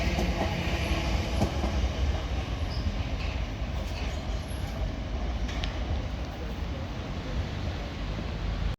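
A train passes Raynes Park station on the South Western Main Line with a loud, continuous rumble of wheels on rails and faint rail squeals, holding steady close by throughout.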